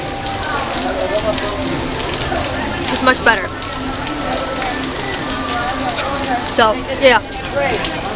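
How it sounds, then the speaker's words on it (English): Rain falling on surfaces at Magic Kingdom, a steady hiss and patter heard close, with people talking over it and a few brief louder bursts. "We're just waiting on the rain now."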